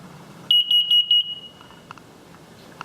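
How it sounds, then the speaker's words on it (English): A carbon monoxide alarm in a late 1990s North Texas house gives a quick run of four shrill, loud beeps, then the room falls to a quiet hum with a few faint clicks. "carbon monoxide alarm."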